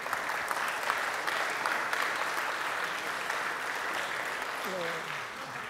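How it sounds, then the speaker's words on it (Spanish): Sustained applause from an audience at an award ceremony, steady dense clapping throughout with a voice briefly audible near the end. "Un fuerte aplauso para la doctora Graciela,"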